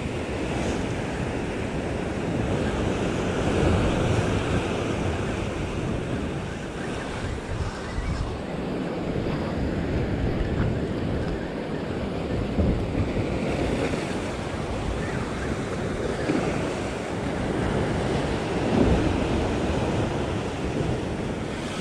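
Sea surf breaking on the Cornish coast during lure fishing for pollock and mackerel, a continuous loud wash of waves with wind buffeting the microphone throughout, no talk.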